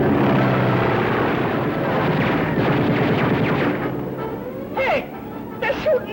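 An airplane engine drones loudly in flight in an Abbott and Costello film trailer, a thick roaring rumble that fades toward the end as voices call out in short bursts.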